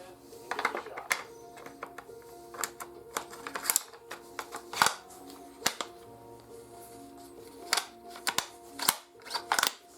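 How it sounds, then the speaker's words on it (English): A Ruger American 6.5 Creedmoor rifle bolt is worked, giving a run of close, crisp metallic clicks and clacks in irregular bursts, with faint rustling between. "That bolt needs oil for sure."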